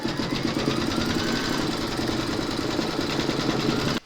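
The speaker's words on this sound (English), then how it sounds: "Pop your hoop into your machine and stitch round number 2." An embroidery machine stitches a lollipop coaster design in a steady, rapid mechanical rhythm, loud and close, running alone and stopping abruptly at the end.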